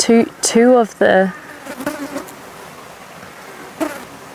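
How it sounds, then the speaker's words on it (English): Australian peacock carpenter bees buzz faintly in the background after a brief burst of speech at the start, a soft steady drone with occasional closer passes. "there's two peacock carpenter bees behind me now"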